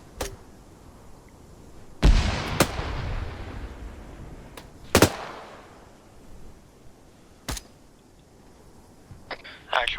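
Gunfire in the video game Arma, a handful of sharp, loud individual shots with echoing tails spaced several seconds apart, over a quiet background with occasional voices.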